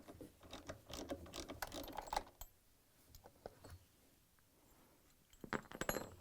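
Bolts come out of a Frigidaire washer during a tub seal replacement: bursts of quick ratchet clicks and metallic ticking, a pause, then another short ratcheting run, all close and fairly quiet.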